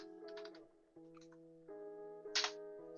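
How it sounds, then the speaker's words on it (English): Someone keys a colour value into Illustrator on a computer keyboard: a short run of light key taps in a quiet room, with a steady musical hum running underneath and one louder click burst near the end. "I'm going to have to type it in"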